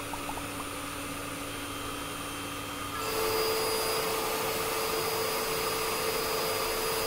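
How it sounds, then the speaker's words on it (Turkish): A Philips AquaTrio 9000 cordless stick vacuum hums steadily, then jumps to a louder, higher-pitched whine as it switches to stronger suction, running continuously up close. "yüksek emiş gücündeyken çıkarttığı ses bile benim kullandığım diğer şarjlı dikey süpürgelerden daha az"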